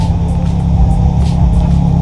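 A customized car pulls away from a rainy night-time custom car meet, its low engine rumble loud and close and holding steady for about two seconds.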